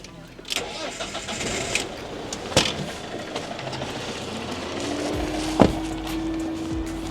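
A car engine cranks and turns over, then settles into a steady low idle, with some clicks and handling noises nearby; a motorhome engine started on a LiFePO4 battery.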